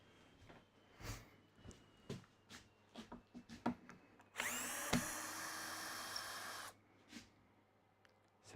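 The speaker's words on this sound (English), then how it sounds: "I will get the screwdriver and take it off" Work on a woodworking planer-thicknesser, a series of soft clicks and knocks followed by a steady whirring power-driver burst of about two seconds, then more faint taps, close and without talk.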